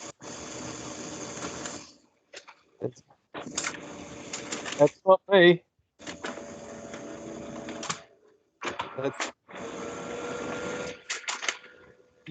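A printer sitting beside a phone runs in repeated mechanical bursts, each a few seconds long with short gaps between, picked up faintly as buzzy interference through the phone line, with a brief spoken remark in between.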